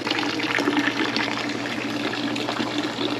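Water draining steadily out of a Fluval FX6 aquarium canister filter, a continuous close trickling and splashing wash that holds at an even level throughout with no voices.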